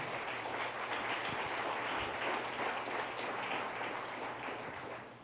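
A church congregation claps for the Lord in steady, dense applause that holds evenly for several seconds before easing slightly at the end, with a low hum underneath.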